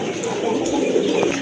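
A pair of Mussaldum pigeons coos softly and continuously, a low murmuring close by, with faint background voices.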